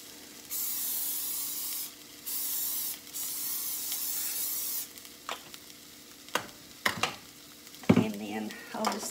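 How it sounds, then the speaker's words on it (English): Cooking spray hisses out of a can in three bursts of a few seconds each, close and clear, followed by clinks and handling sounds of kitchen containers. "So I'm going to spray it."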